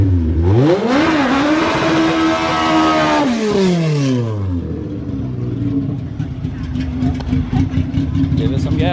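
A car engine revs hard, rising and falling in a loud sweeping surge before dropping back to a rough idle, and voices speak over the idle.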